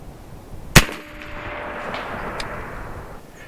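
An air-powered 12 gauge shotgun fires a single real buckshot shell: one sharp, loud blast, followed by a brief ringing tone and a lingering noisy tail.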